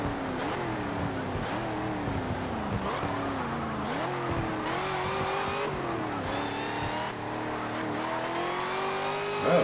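Race cars from Forza Motorsport 7 roar continuously through the lap, engines revving and shifting pitch with faint tire squeal, loud and steady throughout.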